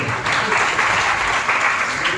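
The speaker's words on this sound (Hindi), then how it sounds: "अब बजाओ ताली।" An audience at a religious discourse claps on request, a brief, dense burst of applause from a crowd that begins after a short pause and keeps up steadily for about two seconds.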